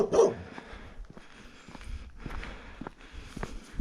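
A small friendly dog trails a walker through a snowy village, giving a sharp bark up close at the start, then scattered soft sounds and crunching footsteps on snow.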